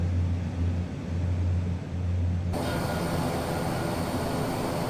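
Fokker F27 turboprop engine in Microsoft Flight Simulator 2024, a steady droning hum that swells into a broader, louder roar halfway through, continuous with no talk.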